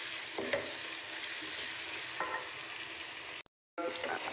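Ginger-garlic paste frying in oil with bay leaf, cardamom and whole spices for chicken biryani, a constant close sizzle with a few stirring scrapes, briefly cut to silence near the end before resuming.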